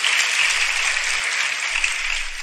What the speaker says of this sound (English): let the audience clap